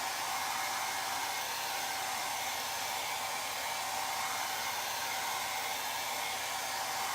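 A hair dryer blows steadily and loudly without a break, drying paint on a chalkboard sign; the whir holds an even, unbroken tone throughout.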